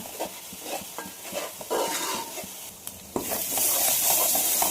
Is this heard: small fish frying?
yes